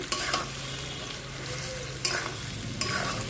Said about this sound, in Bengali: খানিকটা দিলাম দিয়ে ভালোভাবে একটু নাড়িয়ে নেব